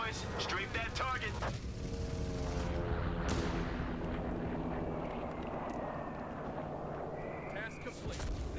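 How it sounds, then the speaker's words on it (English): Strafing-run gunfire in Company of Heroes 3, a World War II strategy game, heard as a dense, rumbling barrage mixed with aircraft noise and explosions, while a voice talks over the battle. "strafe that target"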